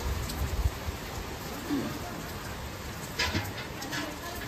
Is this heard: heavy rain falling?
yes